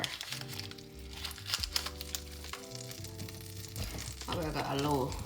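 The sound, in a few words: butter melting and sizzling in hot cooking oil in a pan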